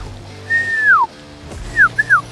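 A person whistles loudly during a hog hunt, one long falling whistle followed after a pause by two shorter falling whistles, close and clear over a quiet outdoor background.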